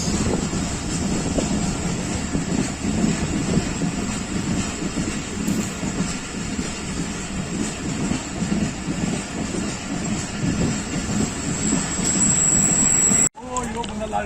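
A Hazara Express passenger train runs through Sindh toward Shahdadpur, giving a steady, continuous rolling rumble with wind buffeting the microphone and a faint high whine throughout, until a brief cut near the end.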